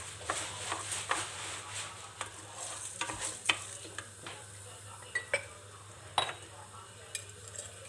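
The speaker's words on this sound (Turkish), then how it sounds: "pirinçlerimi yaklaşık 5 dakika boyunca kavuruyorum" Rice for a garlic pilaf is sautéed in a pan with a faint hiss, punctuated by repeated scraping stirs and light utensil clinks against the metal, quiet and close, without talk.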